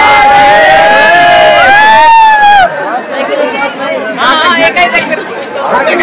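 Dense crowd chatter at the busy Mukundpur fair, a continuous babble of many voices with occasional louder shouts and calls rising over the steady hubbub.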